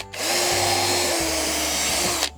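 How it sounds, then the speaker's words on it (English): A power drill whirs steadily at close range for a couple of seconds, its motor pitch dipping briefly midway as it bites into wood. "We're just gonna drill some starter holes so this wood doesn't split,"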